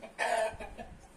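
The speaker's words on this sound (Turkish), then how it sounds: "Bu da orijinal Hint tavuğumuz arkadaşlar" An Indian Asil chicken gives a short, close cluck followed by a couple of softer trailing notes.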